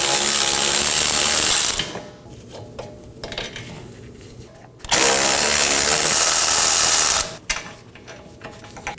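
A ratchet spins off the 18mm wheel bearing and hub bolts on a Chevrolet Equinox, two loud bursts of rapid clicking separated by quieter metallic handling and pauses.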